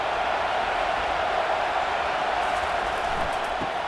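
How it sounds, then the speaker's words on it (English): A stadium crowd in a College Football 25 video game gives a steady, dense roar of cheering that holds at an even level throughout, broad and distant, with no single voice standing out. "This crowd knows when to bring it."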